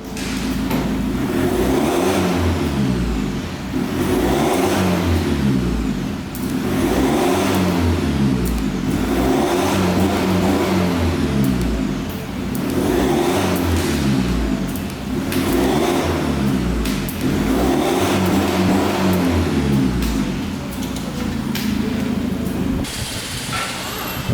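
A Ford Ranger Raptor with an aftermarket downpipe and exhaust system, revved hard in repeated bursts that climb, hold and drop back, about five cycles, loud and close.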